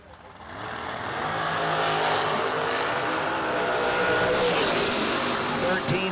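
A dragster launches down a drag strip, its engine roaring up loudly after a brief build and holding a dense, raspy drone for several seconds, with crowd or commentary faintly mixed in.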